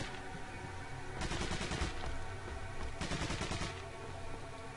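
Bursts of rapid gunfire in Resident Evil 4 Separate Ways, two loud clusters of shots about two seconds apart over a steady game background, with no talk.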